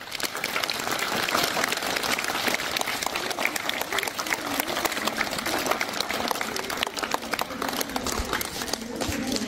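Students and teachers applauding at a new primary school in Chora, a busy, continuous patter of many hands clapping at moderate level throughout, with no clear pauses.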